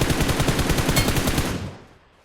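A loud, fast burst of automatic weapon fire in PUBG Mobile rattles for about a second and a half, then cuts off and fades quickly, with no voices.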